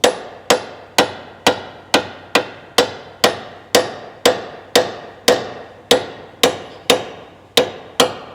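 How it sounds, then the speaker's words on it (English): Steady hammer blows drive a front lower control arm bushing into a 2010 Ford Escape, about two sharp metallic strikes per second, each loud and close with a quick ringing decay, no voices. "We're gonna hammer it in."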